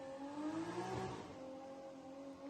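A car in a burnout competition bouncing off its rev limiter, the engine holding a high, stuttering buzz at a steady pitch for a couple of seconds, heard fairly faint and without voices.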